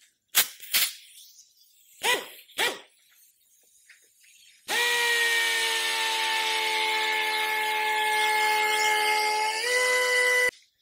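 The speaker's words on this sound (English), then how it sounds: "We've got our air drill here. This little mixer, this blending wand" Air drill with a blending wand mixing paint: a few sharp knocks and clatters, then a loud whirring motor starts and runs steadily, its pitch shifting slightly before cutting off abruptly.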